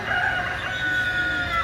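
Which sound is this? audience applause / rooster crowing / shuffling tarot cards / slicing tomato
rooster crowing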